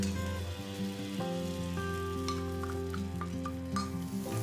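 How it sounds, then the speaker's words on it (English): Sesame oil, ginger and doubanjiang fry in a pan, giving a steady, close sizzle with soft crackle and stirring scrapes. Faint tonal music plays underneath. "Fry sesame oil, ginger, and doubanjiang in a fry pan."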